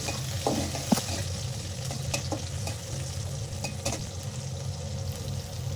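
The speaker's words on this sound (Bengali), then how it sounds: "লোতে রেখেই আমি পেঁয়াজটাকে একটু ভেজে নেবো" Chopped onion fries on low heat in a pan with a soft, even sizzle, punctuated by a few sharp scrapes and taps of a spatula stirring, with no one speaking.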